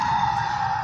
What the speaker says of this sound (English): There's ambulances.